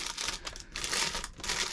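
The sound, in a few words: plastic packaging bag crinkling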